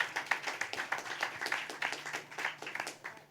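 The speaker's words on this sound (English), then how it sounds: "Please clap for Sachiko." Sparse, rhythmic clapping from a small audience at a philanthropy summit panel, individual claps distinct and fairly quiet, without talk over them.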